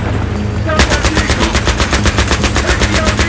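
Sustained automatic gunfire in Battlefield 3, a loud rapid burst of evenly spaced shots starting abruptly after a brief lull and continuing without a break, with faint game background underneath.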